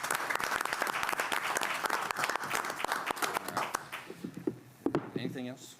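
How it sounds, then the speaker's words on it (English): A room of attendees at a county board meeting claps in a dense round of applause, fairly distant and even, thinning into scattered claps as a voice begins speaking near the end. "can we give them a round of applause for these two?"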